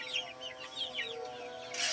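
Chickens in a poultry house cluck and chirp close by in short, repeated calls over a faint background hum.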